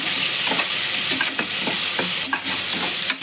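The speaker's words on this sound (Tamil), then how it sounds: "எல்லாத்தையும் நல்லா வதக்கிக்கலாம்." Onion, tomato, garlic and green chili sautéing in a pan for sambar rice, with steady sizzling and frying hiss broken by several clinks and scrapes of stirring, close and alone without talk.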